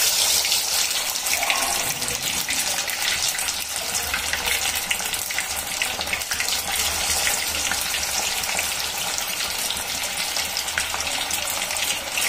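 Chicken pieces fry in a pan of hot oil, a loud, dense and steady crackling sizzle that fills the whole stretch close up, with no speech.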